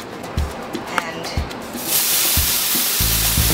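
French toast frying in a pan over medium heat with cooking spray or oil, a steady broadband sizzle rising and holding loud after a quiet start, with a few soft clinks and taps of utensils near the pan.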